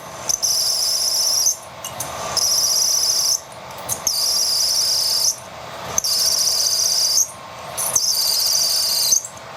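A high, steady metallic squeal from a cheap Banggood drill bit (7/16 inch) cutting metal on a lathe, repeating in bursts about two seconds long separated by brief pauses.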